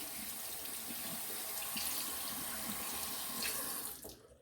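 Tap water runs steadily into a sink while something is rinsed out during a beard trim, a close, continuous hiss of flowing water that cuts off near the end.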